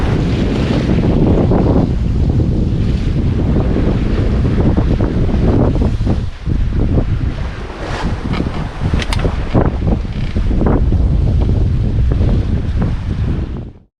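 Strong sea wind roars across the microphone while waves slosh and surge against a wooden sailing ship, a loud continuous rush with occasional creaks and knocks, no voices.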